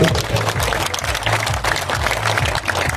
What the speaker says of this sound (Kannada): ಜೋರ ಚಪ್ಪಾಳೆ ಬರಲಿ ಈ ಫ್ರೇಮ್ಗೆ